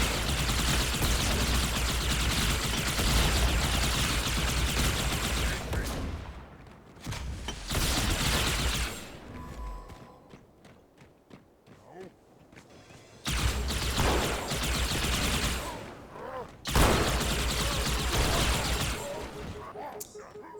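Halo 2 Anniversary combat with shotgun blasts and other gunfire. Loud bursts of shots fill long stretches, broken by brief quieter gaps, with more firing after each gap and someone talking at times.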